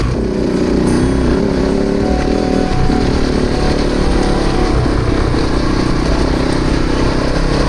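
A motorcycle loaded with a tent climbs a hairpin bend on a dirt road in northern Italy, its engine running loud and steady throughout with a constant rumbling drone and no talking.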